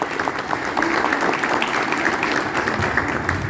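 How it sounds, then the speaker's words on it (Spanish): A crowd at a public gathering in Quequén claps for a woman greeted from the stage, with a steady, moderately loud spread of applause and no voices over it. "Un aplauso para vos, Pato."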